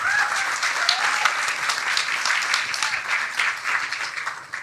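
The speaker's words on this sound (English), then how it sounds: "But a round of applause, please." Applause from an audience at an academic honours symposium, a steady dense wash of many hands clapping throughout, fairly close and sustained without letting up.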